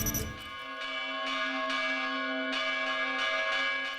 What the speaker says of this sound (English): One of the historic bells was rung to invite parishioners to the first of early morning masses leading to Christmas.